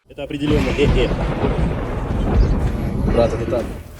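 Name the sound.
thunder during a thunderstorm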